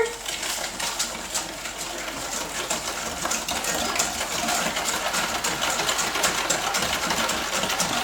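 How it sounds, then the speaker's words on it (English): A sauce with a teaspoon of Dijon mustard is whisked together in a bowl, giving a steady, dense rattle of fast close-up whisk strokes that runs the whole time with no voices. "Let's just whisk that all together."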